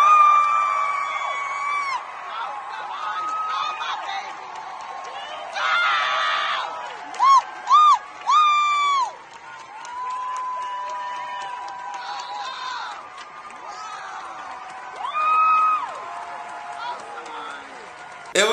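A crowd screams and cheers at the end of a show, shrill whoops and high-pitched shrieks swelling and fading in waves, with voices mixed in.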